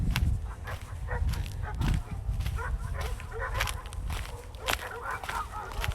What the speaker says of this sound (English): The dogs are happy to see us. They're loud.